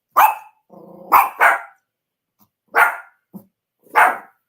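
Dogs bark loudly and close by indoors, several sharp separate barks with pauses between them and a brief low growl, with no talking.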